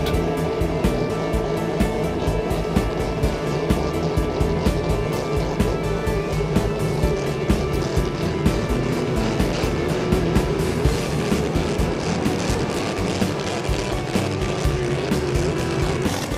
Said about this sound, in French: Martin Rochon dans l'Olympique H73 et Stéphane Prévost dans le Joker Bud se sont lancés en avant comme des fusées.